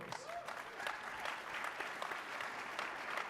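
Audience applause at a conference main-stage presentation, a steady patter of many clapping hands held at a moderate, slightly distant level for a few seconds, with no speech over it.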